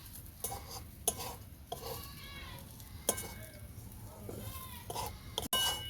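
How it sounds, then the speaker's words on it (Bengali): Chicken kachori filling mixed with ground chana dal gets stirred in a pan, with soft irregular scrapes and clinks of a utensil against metal, close and fairly quiet. "দিয়ে দেবো আমি গুঁড়ো করা ছোলার ডাল, এইভাবে ভালো করে মেখে নেব"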